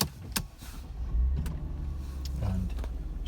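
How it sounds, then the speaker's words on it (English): A Mercedes W209 being started: clicks and a brief crank, then the engine catches and settles into a steady low idle hum with a few sharp clicks over it. "So start the car now"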